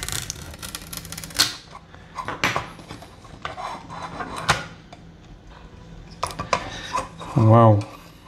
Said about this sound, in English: I have to remove this sticker too.